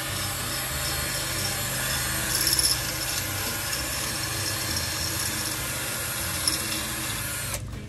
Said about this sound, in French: Donc là, je vais faire avec mes fraises sur la perceuse